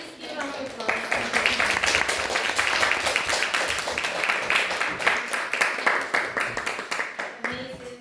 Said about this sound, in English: Please give up your applause.